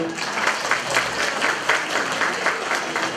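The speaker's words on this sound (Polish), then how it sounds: "brawa dla pani Anny" Audience applause at a grandparents' day celebration in a community hall, a steady mass of clapping with rhythmic swells, moderately loud and close, no voices heard.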